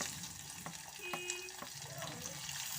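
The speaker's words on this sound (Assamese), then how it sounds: "পিঁয়াজখিনি ভাজা হ'ল, ৰঙচুৱা হৈছে।" Onions fry in oil in a wok, giving a faint, steady sizzle with a few soft scraping stirs.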